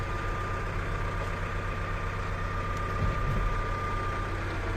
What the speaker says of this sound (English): I'm going to hop out with the engine going